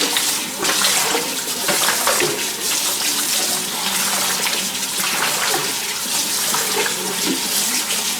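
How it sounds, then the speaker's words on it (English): Running water from a tap pours steadily over raw pork skins being rinsed clean of fat in a kitchen sink, a continuous close splashing gush with no talk. "Wash off all the little fat that was on it."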